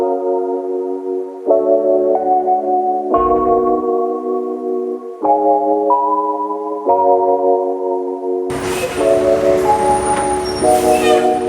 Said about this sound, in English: Literally just rode that tram 1 stop just to get that shot